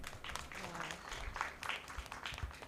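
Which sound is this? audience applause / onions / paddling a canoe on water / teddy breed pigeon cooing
audience applause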